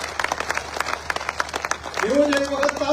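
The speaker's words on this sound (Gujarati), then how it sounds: "તાળીઓ બતાવો તમામ જિલ્લા પંચાયતના સભ્યો" A crowd applauds at a political rally honouring newly elected district panchayat members in Vav-Tharad, with scattered claps joined by a voice and a sustained tone near the end.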